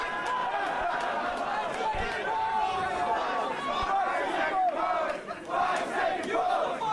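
A wrestling crowd at a Lance Storm versus Christian Cage match roars steadily, cheering and shouting in a dense, continuous wash with no clear chant rhythm. The noise stays loud and sustained throughout, with a brief dip near the end.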